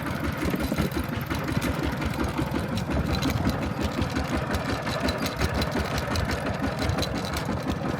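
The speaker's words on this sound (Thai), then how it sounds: "เคยขี่รถไถแบบจัดขนาดแบบนี้มาก่อนเลย" A farm tractor used for plowing rice paddies in Laos runs with a steady, fast chugging engine rhythm, close and continuous for the whole stretch, with no talk.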